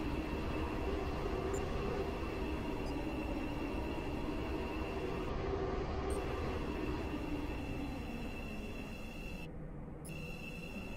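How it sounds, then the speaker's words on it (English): A steady, continuous rumble of a train running in the Roblox game Stepford County Railway, with a constant mechanical drone and a faint high tone, uniform and unbroken throughout. "This train terminates here."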